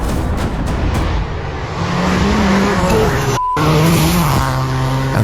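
Rally car entering a right-hand corner too fast on a stage, sliding wide and catching a bank, engine roaring with tires scrabbling, one brief cut in the middle, loud and close throughout.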